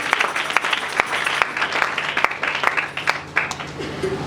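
A church congregation applauding for the Lord, a dense burst of hand clapping with a few sharp individual claps, close and lively throughout.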